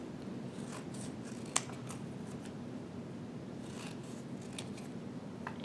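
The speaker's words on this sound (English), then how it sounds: "we're gonna cut pieces of paper or our book pages" Scissors cut cardboard and paper book pages at close range, a run of faint crisp snips and rustles in bursts, one sharp click near the start, set against quiet room noise.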